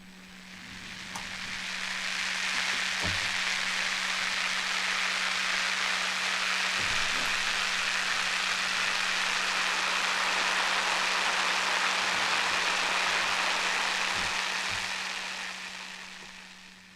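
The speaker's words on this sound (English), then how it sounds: "why not have a rainstorm?" A synthesized rainstorm effect from a shake-and-scrape VST plugin fades in to a steady, dense wash of hissing rain, holds evenly for a long stretch, then fades away.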